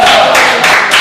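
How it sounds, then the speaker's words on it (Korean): A lecture audience on constitutional reform clapping together, a short loud burst of dense applause lasting about a second. "이럴 때는 박수를 좀 쳐주세요."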